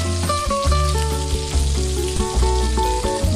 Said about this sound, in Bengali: সব ডাঁটাগুলোকে দিয়ে আগে কিছুক্ষণ ভেজে নিচ্ছি